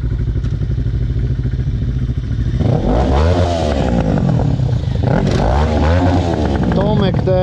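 A motorcycle with a tampered exhaust is revved to the maximum in neutral, giving a loud close engine drone that surges into repeated rising and falling revs after a few seconds, with people talking around it.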